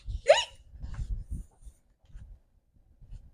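A voice imitates hiccups, giving a sharp squeaky hiccup near the start followed by a few softer breathy hiccup-like sounds spaced irregularly, close and alone.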